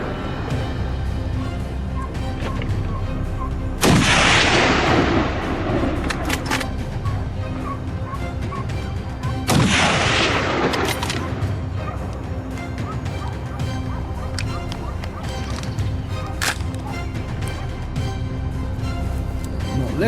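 Two loud gunshots aimed at wild boars crack about six seconds apart, each trailing a long echoing decay, over a constant background of outdoor animal noise.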